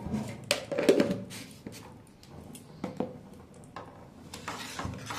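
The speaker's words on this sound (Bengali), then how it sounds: "নাড়াচাড়া দিয়ে চিনিটা গলিয়ে নেব।" A spoon scrapes and knocks inside a pot as sugar is stirred into homemade tomato sauce, giving irregular clinks and scrapes at close range with quiet gaps between them.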